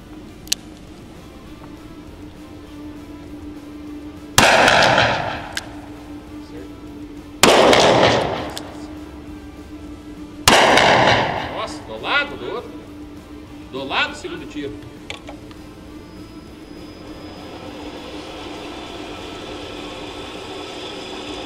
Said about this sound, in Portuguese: Me dá uns tiros.